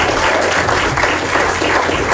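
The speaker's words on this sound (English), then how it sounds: "Oh no, that round of applause was too tame" A dense, steady round of applause from an audience at a corporate launch event for Productivity Awareness Week fills the whole stretch, loud and close, with many hands clapping together.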